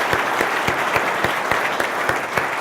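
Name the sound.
applause for the newest employee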